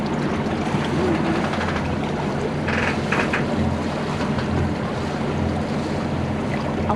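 Boat motoring at sea near Porquerolles, a continuous low engine drone mixed with rushing water and wind buffeting the microphone, steady throughout.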